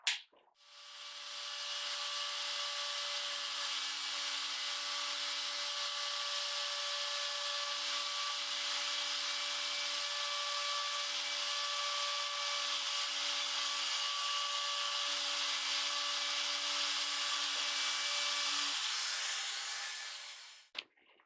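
Small router bit cutting waste from the binding channel of a wooden mandolin peghead: a continuous high-pitched motor whine with a steady cutting hiss lasting about twenty seconds, starting and stopping cleanly.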